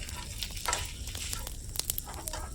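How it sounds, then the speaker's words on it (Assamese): Steady crackling sizzle of meat frying in a hot pan, with a few sharper pops and spatters rising above the continuous hiss. "এইফালে ৰৈ যোৱা মাংসখিনি ভাজি আছোঁ"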